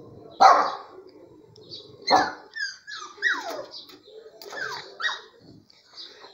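Several small dogs bark in short, irregular bursts while playing outdoors, with yips and whimpering squeals between the louder barks, fairly close and without talk.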